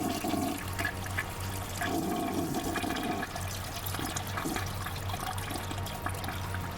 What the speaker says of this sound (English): Martin flushing 300 bits right down the toilet.